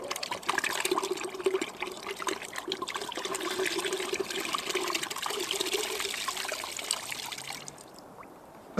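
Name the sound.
water pouring out of a swirled bottle in a vortex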